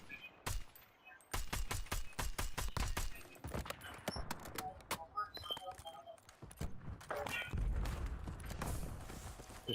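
Sniper fire in an online shooter game: a rapid run of sharp, close gunshot cracks and clattering bursts, with irregular shots spread across the stretch over a faint mix of game noise.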